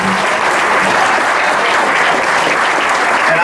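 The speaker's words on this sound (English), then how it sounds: "Folks, we'll give them one last round of applause" Audience applause for candidates at a 2022 Carroll County State's Attorney debate, a dense, steady roar of clapping from a crowd filling the whole stretch without a break.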